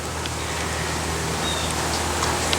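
Steady rain falls outside a garage, a continuous soft, even hiss of drops on surfaces that holds at the same level throughout, with no talking.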